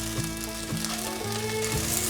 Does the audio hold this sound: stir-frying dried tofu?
yes